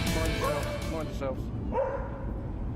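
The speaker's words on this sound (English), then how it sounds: "It's a dog. It's trapped on the riverbank." An animated dog trapped on a riverbank gives a few short barks and whimpering yips, heard under a narrator's voice in a children's fire engine cartoon.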